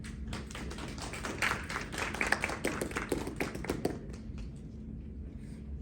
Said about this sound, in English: let's give them a round of applause for their great work and dedication